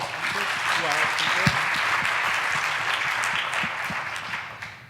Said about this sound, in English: So a quick applause for our speakers.